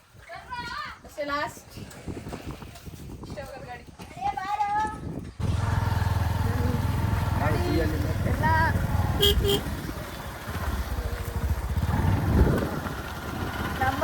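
A vehicle comes up along a village road, its steady engine rumble rising suddenly and then holding loud and close, with a short horn toot; children and adults chatter over it.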